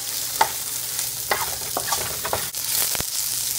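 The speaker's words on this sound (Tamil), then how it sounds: "இதை நல்லா வணக்கி விட்டுறலாம். வெங்காயம் கொஞ்சம் நல்லா வணங்கணும்." Small onions sauté in a pan for manathakali vathal kuzhambu, giving a soft steady sizzle broken by a few sharp scrapes and knocks of a spoon stirring against the metal.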